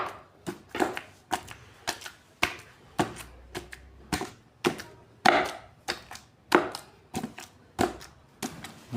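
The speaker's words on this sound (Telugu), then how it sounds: "మనం తీసుకున్న ఈ అటుకులు అనేటివి మెత్తటి పేస్ట్ అయ్యేంత వరకు స్మాష్ చేసుకోవాలండి." Flattened rice (atukulu) being smashed into a soft paste for Ugadi pachadi, a steady run of sharp, close pounding knocks at a brisk, even rhythm.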